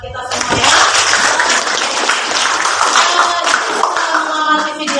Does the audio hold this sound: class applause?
yes